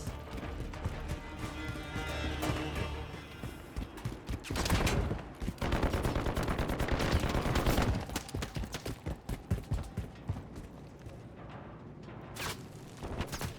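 Gunfire in Call of Duty: Modern Warfare 3, dense bursts of rapid shots and impacts rising to a loud, sustained barrage midway, then scattered shots trailing off.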